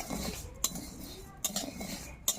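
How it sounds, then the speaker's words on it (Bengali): Broken rice dry-roasting in a kadai over the stove, with a soft scraping stir and three sharp metallic clinks of a spatula on the wok spaced across a quiet background. "এগুলো আমি ঢেলে দেবো হালকা হাতে নাড়াচাড়া করে ফুদগুলো আমি ভেজে নেব"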